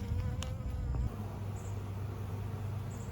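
Honey bees buzz steadily at a hive feeder, a dense continuous drone with a low hum throughout and brief louder passes near the start.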